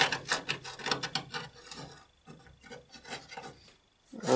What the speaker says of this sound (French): Là, on a le carbu qui frotte.